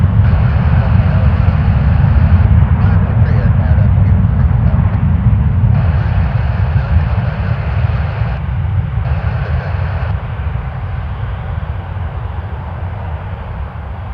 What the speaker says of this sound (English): Endeavour 5306 to LaGuardia. RJ 900 for Delta Connection.